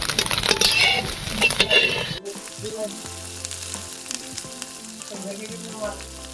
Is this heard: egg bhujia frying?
yes